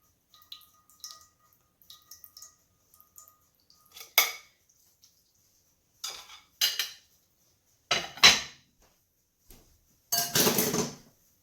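A metal pot drained of meat juice while making Sicilian rice balls: scattered clinks, clatters and scrapes of cookware with brief pouring and drip sounds, close and intermittent with quiet gaps between.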